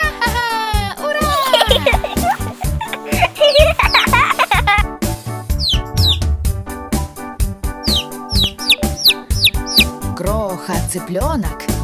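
Cartoon chicken clucks punctuate a bouncy children's song, with sung vocals and dense instrumental backing throughout.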